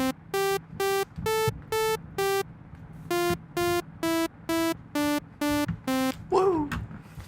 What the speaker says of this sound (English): there we have our melody for Twinkle Twinkle Little Star